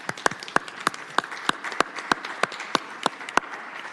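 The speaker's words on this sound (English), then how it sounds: "Let's give you a little round of applause" A round of applause at an Irvine city council special meeting, many hands clapping steadily while one loud, close clapper adds sharp, evenly spaced claps about three times a second.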